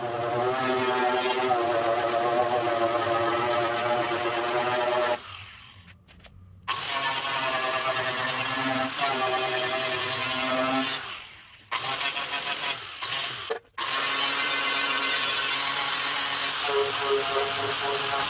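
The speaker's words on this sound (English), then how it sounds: "I'm just using one of these fiber Scotch-Brite wheels to take the paint and primer off" A fiber Scotch-Brite wheel on a power tool strips paint and primer from the metal of a rusty 1966 Chevy C10, a loud, steady whirring grind that cuts out briefly and starts up again several times.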